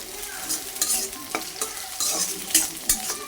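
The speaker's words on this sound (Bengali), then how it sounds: "এদিকে দেখেন শুটকিটা ভাইজা নিতেছে আগে একটু তেলে।" Dried fish fries in hot oil in a home kitchen, giving a soft, constant sizzle. Occasional scraping stirs and light clanks of a utensil in the pan sound up close, with no voices.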